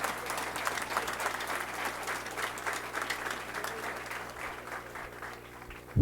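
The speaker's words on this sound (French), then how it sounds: "Demandons applaudissements encore pour nos nouveaux policiers" Audience applause for newly graduated Haitian National Police officers at a graduation ceremony, a steady dense wash of clapping from a large crowd, sustained for several seconds before ending abruptly.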